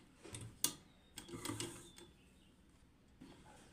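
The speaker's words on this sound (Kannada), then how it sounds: "ಮೇಲೆ ಹೊಲಿಗೆ ಹಾಕ್ತಿದ್ದೆ ಪೈಪಿಂಗ ಅಟ್ಯಾಚ್ ಮಾಡ್ಕೊಂಡೆ" Sewing machine stitching piping onto the round neck of a blouse, heard as quiet, uneven mechanical ticks and short whirring bursts with pauses between runs.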